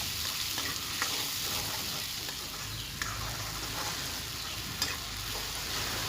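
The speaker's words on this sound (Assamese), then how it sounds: "এতিয়া এইখিনি মছলাখিনি অকণমান ভাজি ল'ম।" Spice paste with turmeric fries in oil for chicken pulao, a steady close sizzle with occasional scraping stirs breaking through the continuous hiss.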